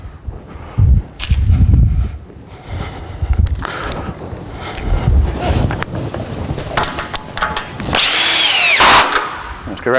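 A power drill drives screws to fix a workbench board to pre-drilled beams, giving several short whirring bursts and tool clatter, fairly loud and close, with quieter handling noise in between.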